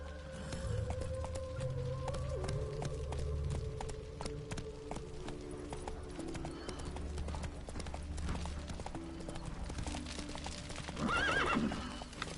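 Roach the horse gallops with steady clip-clop hoofbeats over low game music in The Witcher 3, then gives a short whinny near the end.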